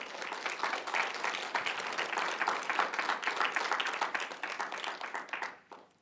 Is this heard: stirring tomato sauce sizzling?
no